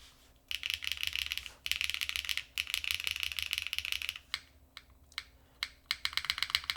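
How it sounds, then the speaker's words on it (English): Keystrokes clatter on a newly built mechanical keyboard with soft switches, quick runs of close clicky taps broken by short pauses and a few single presses, heard clearly and alone. "Very soft typing experience too with this."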